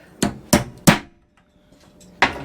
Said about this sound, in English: As you hit that punch with the hammer, we'll see the retaining ring break free